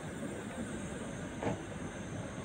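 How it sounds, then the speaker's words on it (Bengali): The Balurghat-Howrah Express with LHB coaches pulls slowly out of the station. A low, faint rumble and hiss of rolling stock holds steady, with one brief swell in the middle. "ধীরে ধীরে ট্রেনটি বেরিয়ে যাচ্ছে।"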